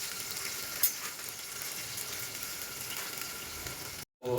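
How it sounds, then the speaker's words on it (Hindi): Onion and chili frying in hot oil inside a pressure cooker, a steady dense sizzle throughout with a brief clatter near the start, cutting off abruptly at the end before a short burst of sound. "तो तेल अपना आ गया है, उसमें प्याज और मिर्ची छौंकेंगे"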